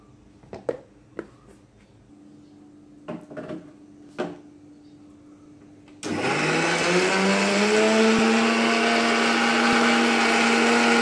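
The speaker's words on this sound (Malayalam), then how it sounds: "തേങ്ങയും ജീരകം അരച്ചെടുക്കണം അല്ലേ അമ്മ?" A mixer grinder grinding coconut and cumin starts abruptly partway through and runs as a loud, steady whirring drone, after a few brief kitchen knocks and clatters.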